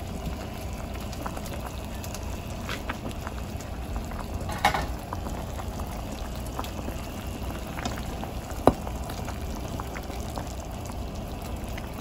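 A steady low bubbling and simmering hiss from a pot of spicy bulalo beef soup, continuous throughout, with a couple of faint clinks.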